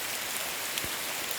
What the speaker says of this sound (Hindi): पहले बारिश कुछ ज़्यादा हो रही है।